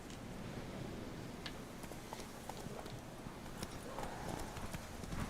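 Roach the horse's hooves clip-clop steadily in Witcher 3: Wild Hunt, a rapid, even rhythm of light knocks over a constant low rumble of game ambience, with no talking.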